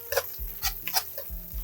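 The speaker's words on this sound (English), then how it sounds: "the cream cheese is a little solid, so we're gonna use a whisk to try to mix it in there" Whisk stirring chunky cream cheese into Mexican street-style creamed corn, giving a few close, wet scraping strokes with soft sloshing in an uneven rhythm.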